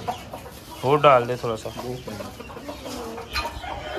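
Chickens and roosters cluck close by in the morning as grain is scattered for them, with a few rising calls over someone speaking Hindi.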